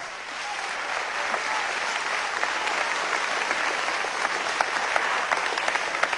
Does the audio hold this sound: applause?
yes